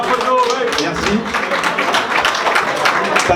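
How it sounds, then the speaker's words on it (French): Audience applause at the Opio Valbonne Classic, a dense, steady patter of many hands clapping close by for the whole stretch, mixed with crowd chatter and voices. "Et applaudissez-le."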